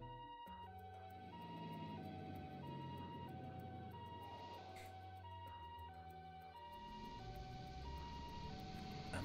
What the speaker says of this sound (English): Ambulance, two ambulances, three.